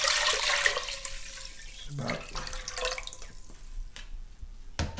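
Water pours and drains into a kitchen sink from a pot of potatoes, a splashing rush that fades to trickles and drips, with a brief voice in the background.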